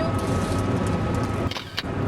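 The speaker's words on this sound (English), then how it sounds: "Car always has to drive in the way" A car drives past nearby with a steady broad rush of road and engine noise that dips briefly near the end, no voices over it.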